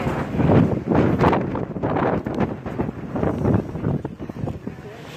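Gusty wind buffets the microphone in broad rumbling bursts while people talk close by.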